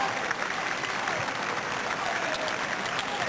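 Sustained crowd applause and cheering after a Great Britain versus India tennis doubles match won by Paes and Bhupathi, dense and steady for a few seconds.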